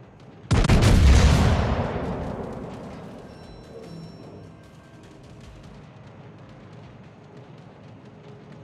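A warship fires a broadside in World of Warships, one heavy booming blast that crashes in loudly and then rolls away into a long fading rumble, with no voices.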